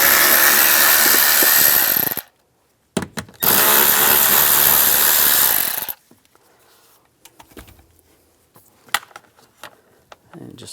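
A power driver with a 5.5mm socket whirs loudly in two long bursts, backing two screws out of the antenna base on a 2007-2013 Chevrolet Silverado, followed by quieter clicks and handling noises.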